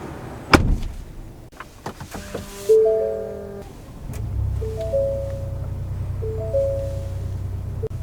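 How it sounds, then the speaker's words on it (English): The power-adjust motor of a 2024 Ford Expedition King Ranch steering wheel whirs in several short tonal bursts, preceded by a few clicks and knocks, with a low steady cabin hum running underneath. "and then the steering wheel is power adjustable"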